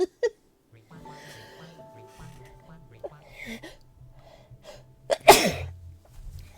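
A video game character lets out a single sharp, loud sneeze near the end, preceded by quiet voices, faint tones and light sounds.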